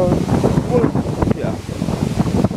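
Strong hurricane wind in the Bahamas roars and buffets the microphone in a loud, continuous, rumbling gust with no letup.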